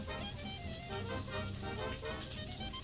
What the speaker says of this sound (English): over in this pan, we're going to start to saute our gnocchi